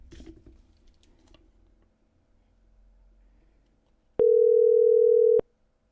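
A telephone call tone on an outgoing call, heard as a single steady electronic tone lasting about a second, loud and clean after faint keypad taps and quiet room noise.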